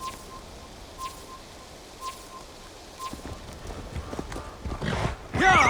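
A horse's hooves clip-clop at a steady pace in the video game Assassin's Creed Valhalla, soft and rhythmic beneath birdsong, growing louder and busier toward the end.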